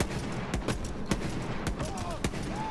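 The Boom Sickle gun firing in Borderlands 3: sharp, separate shots at an uneven rhythm, about six or seven sharp cracks over a steady background rumble.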